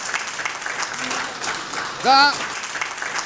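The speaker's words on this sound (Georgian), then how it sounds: "რა თქმა უნდა აპლოდისმენტები მჭირდება" A studio audience applauds at the finale of a Georgian TV talent show, a broad wash of clapping beneath a voice, with a brief louder swell near the end.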